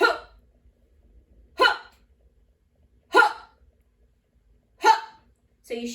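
Four sharp, forceful kapalabhati breath exhalations from the back of the throat burst out at regular intervals of about one and a half seconds, with quiet pauses between them.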